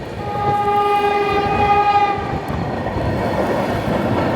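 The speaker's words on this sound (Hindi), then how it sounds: "यह है न्यू जलपाईगुड़ी पटना वंदे भारत एक्सप्रेस।" The New Jalpaiguri–Patna Vande Bharat Express passes nearby and sounds a loud, steady horn for about two seconds, while the rolling rumble of the wagons carries on after it.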